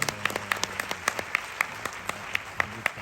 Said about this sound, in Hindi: ऐसे हमारे संगीतकार सर के लिए एक बार जोरदार तालियां होना चाहिए।